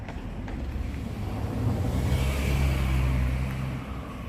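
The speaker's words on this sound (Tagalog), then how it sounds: "May sasakyan." A vehicle passing outdoors, a low rumbling engine and tire noise that swells toward the middle and fades, mid-distance, with some wind noise and no talk.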